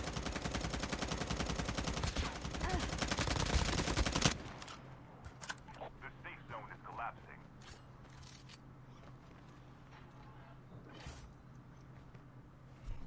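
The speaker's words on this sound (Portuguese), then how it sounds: "Então tem cara atirando em mim aqui." Rapid automatic gunfire from enemy shooting in Call of Duty Mobile battle royale, a loud dense burst for about four seconds, then scattered fainter shots and clicks in the background while someone talks.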